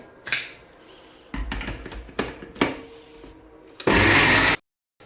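A mixer grinder blends biryani masala with curd instead of water: a few sharp knocks and clatters, then one loud, short, whirring grinding burst near the end that cuts off abruptly.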